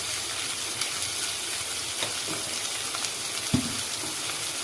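Onions fry in a pan with a steady, dense sizzle and occasional soft pops and stirring scrapes, close and continuous throughout.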